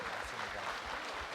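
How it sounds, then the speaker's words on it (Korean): A studio audience applauds during a 1983 live broadcast reuniting separated families, a brief muffled wash of clapping. "여러분 박수 보내주십시오"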